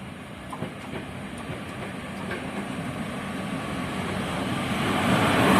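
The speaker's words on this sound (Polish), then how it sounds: "Wjeżdża pociąg TLK Wyczółkowski relacji Lublin Główny Świnoujście." A TLK Wyczółkowski passenger train on the Lublin Główny–Świnoujście service rolls into a station with a rumbling, faint clatter of wheels that grows steadily louder as it nears, with no voices.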